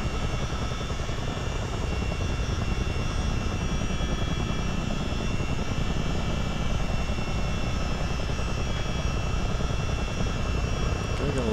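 A CH-47D Chinook helicopter in a motion flight simulator drones steadily with a dense, even rotor and engine roar that holds constant throughout, loud and close with no talk.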